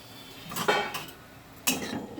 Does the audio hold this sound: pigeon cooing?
no